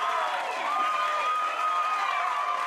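Crowd noise at a sustainability student debate, a steady wash of cheering and applause lasting a few seconds with some voices mixed in, fairly even in loudness throughout.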